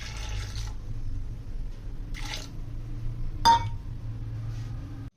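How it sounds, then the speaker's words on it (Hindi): A cup of water goes into a pot of chicken shami kebab mixture with spices, a low wash of pouring broken by three sharp clinks of utensils or glass. "1 कप पानी हमने डालना है।"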